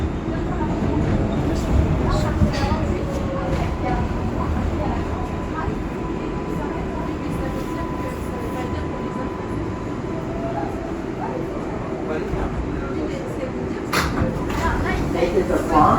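Bronx-bound R142A 6 local subway train riding between 28th and 33rd Street stations, a steady loud rumble of wheels and motors with rattling throughout, occasional squeals, and a voice speaking over it.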